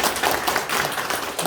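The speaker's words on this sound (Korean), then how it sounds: "자 우리 박수 칩시다." Audience at a church gathering applauding together, a dense, loud and continuous wash of clapping close by.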